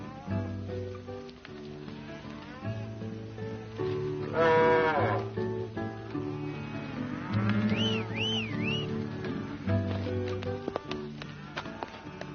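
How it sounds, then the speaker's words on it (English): A herd of cattle is driven along in a 1953 Western, with several deep moos rising over a steady background of orchestral music, some calls long and drawn out, others shorter and overlapping. "Keep the cattle moving."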